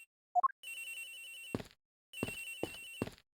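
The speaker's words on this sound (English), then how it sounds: "Agent Hicks' phone! It's ringing from somewhere, sir!" A cell phone in a video game rings in two bursts of an electronic, tinny tone, each ending in sharp beeps, after a few quick rising blips; loud and close with no voices.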